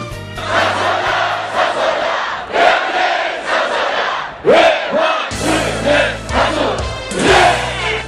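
A large crowd of about 8,000 bank union members shouting and cheering together at a rally in Yeouido, Seoul, in loud, sustained waves, with rising roars and a low rumble underneath, no single voice standing out.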